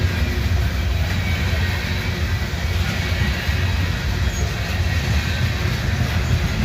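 A loaded coal train bound for North Carolina rumbles past close by in Abbeville, its heavy, steady low roar continuing without a break.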